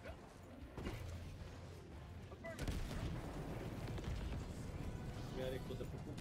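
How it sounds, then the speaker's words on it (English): A bomb goes off in a video game, a burst of booming blasts and gunfire-like cracks swelling midway and carrying on through dense, noisy game action with voices mixed in. "Nada, Slavko, bacio sam bombu"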